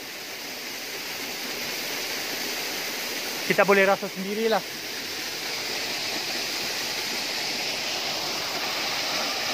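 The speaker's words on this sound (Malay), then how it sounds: "saya suka tengok air terjun ni." Steady rushing roar of a waterfall beside the old Gombak–Karak road at night, filling the whole stretch while someone talks briefly in the middle.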